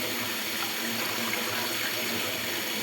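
Hands being washed under a running tap, a steady, close rush of water that stays even and unbroken throughout.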